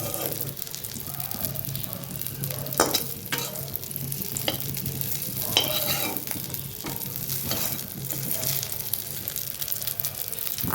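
Small shrimp fritters frying in hot oil, a continuous soft sizzle broken by occasional scraping and stirring clatters as pieces are lifted out one by one, close and moderately loud with faint talk in the background.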